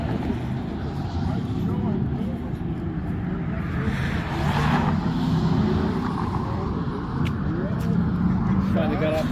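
Classic Ford cars arrive off the freeway at the Fabulous Fords Forever 2024 show at Irwindale Speedway, a steady, fairly loud traffic rumble of several engines passing at a moderate distance, with people talking over it throughout.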